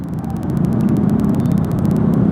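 Steady road traffic noise, a dense low rumble of passing cars with a continuous whir and a rapid series of faint ticking pulses above it, loud and close throughout.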